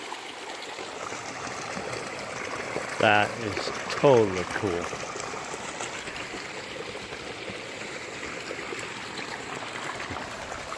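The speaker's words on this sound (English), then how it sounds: "It sounds like there's another little creek or tributary running back here." A small creek runs through the woods with a soft, steady wash of flowing water, and a person speaks briefly over it partway through.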